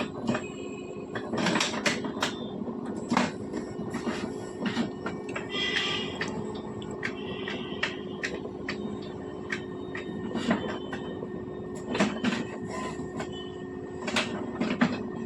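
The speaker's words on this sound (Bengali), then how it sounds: "প্রসেসিং চলছে প্রিন্ট আউটের" An HP Smart Tank 500 printer runs through a print job, showing a steady mechanical hum with repeated clicks, knocks and brief whirring feed noises, close by and with no voices.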